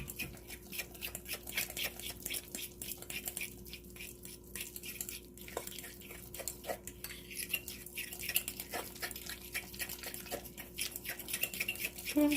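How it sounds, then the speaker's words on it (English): A metal utensil scrapes and clinks against a bowl while seasonings are stirred into crab stuffing for stuffed red snapper, a quiet, steady series of taps and scrapes with no talk. "So we're going to give this a stir. So I'm going to incorporate all of the seasonings."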